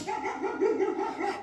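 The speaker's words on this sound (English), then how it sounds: "That's a dog. It's a dog, of course." Dog barking, played in place of Will Smith's roar: a short run of muffled, wavering canine vocalizations, moderately close, with no other sound.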